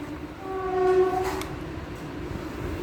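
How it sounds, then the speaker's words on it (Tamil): A train passes near a roadside eatery serving appam and chickpea salna, with a harmonic horn-like tone rising around the middle of the clip over a steady low rumble. "ட்ரெயின் சத்தம் கேட்குதா?"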